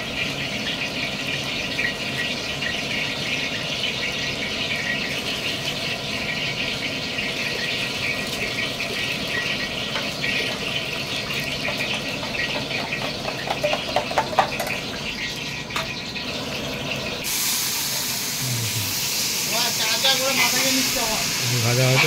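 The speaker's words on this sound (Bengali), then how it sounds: "ওই ড্রাই ফ্রুটটা ভাজা হবে, ওখানে ঘি দেওয়া আছে, ঘি ভেজে নেবো" Dry fruits fry in hot ghee for moong dal halwa, giving a steady, fairly loud sizzling hiss that runs the whole time and swells near the end, with a voice talking over it.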